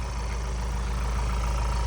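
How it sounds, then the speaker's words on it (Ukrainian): A Ford Transit van's engine runs at a steady idle, a constant low hum and drone that holds evenly throughout, close by with no voices. "Моторчик робить шикарно"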